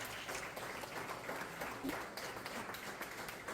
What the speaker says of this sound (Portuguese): Aplauda o Senhor porque Ele é digno.